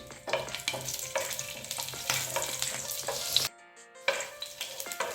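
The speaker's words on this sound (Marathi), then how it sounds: "आता हे तेल गरम झालेलं आहे त्याच्यामध्ये मी पाच सहा पाकळ्या लसणाचे घालते" Five or six garlic cloves sizzle in hot oil, a bright crackling fry with stirring scrapes that briefly cuts out before resuming, close and without speech.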